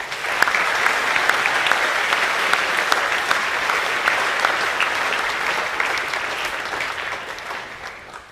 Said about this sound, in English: A round of applause for the first 15.